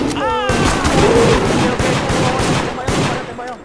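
Gunshots in the multiplayer game Deceit: a quick run of loud, close shots forming an almost continuous barrage, mixed with excited voices talking over the firing.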